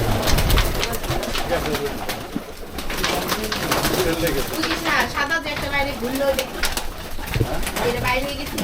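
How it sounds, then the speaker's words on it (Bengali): Pigeons at a village home coo in a dense, overlapping chorus that runs throughout, with people talking over the birds. "এটা হলো নতুন কবুতর"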